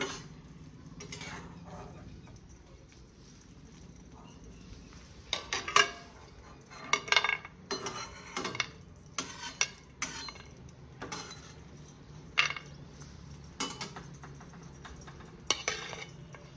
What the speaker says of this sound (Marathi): ह्याच्यामध्ये मी आता तो मीठ टाकून वाटणार आहे। मिरच्या, लसूण आणि शेंगदाणे